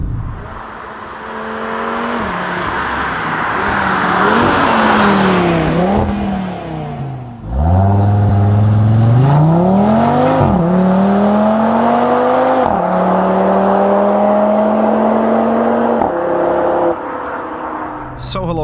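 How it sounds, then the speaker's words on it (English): A Cupra Formentor VZ5 BAT Edition, a 450 hp car, accelerating hard: loud engine note rising through the gears with pauses at shift points, heard from inside the car, with a voice talking over part of it. "We are sitting in the new Cupra Formentor VZ5, first of all as the BAT Edition."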